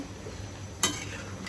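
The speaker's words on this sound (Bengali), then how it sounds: "একটু নাড়াচাড়া করে দিব" A spoon stirs dal in a cooking pot, giving one brief scrape-and-clink against the metal over a low, quiet background hum.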